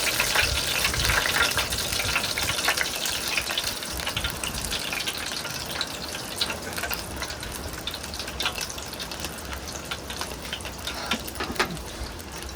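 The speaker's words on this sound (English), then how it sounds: "this is the moment of truth, they're going in the fryer" Battered pickles in a deep fryer give a loud, steady, crackling sizzle that holds unbroken for the whole stretch, with no voices over it.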